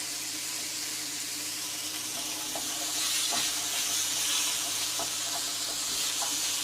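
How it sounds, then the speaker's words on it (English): Bacon lardons sizzle in a pan over a sharp hot flame, a steady hiss with scattered crackles and pops that grows slightly louder midway, no one speaking. "It's quite a sharp hot flame, and it's making a lovely sizzly noise"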